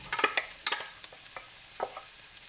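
Onions and aubergine cook in a pan with a soft sizzle under a few crisp stirring clacks and scrapes, some bunched early and others spread apart, fairly close and quiet, with no voices.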